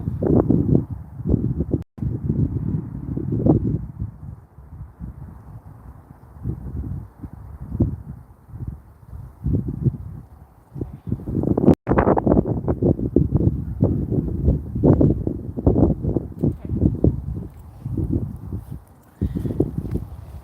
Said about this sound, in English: ignore the wind